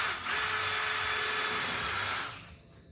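A power drill bores holes through the plastic of an IBC tote being cut down into a pig feeder cradle, a steady high whine running continuously for about two seconds before spinning down and stopping, close and loud.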